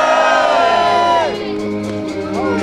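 A crowd at an ice climbing championship cheers and shouts excitedly for a climber, with whoops and sustained yelling rising and falling over a couple of seconds.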